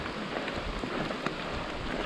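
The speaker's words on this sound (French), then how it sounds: "La pluie arrive, on est trempé." Rain arrives during a mountain bike enduro ride in Canada, a dense, steady hiss of falling water close by with small irregular taps and no speech.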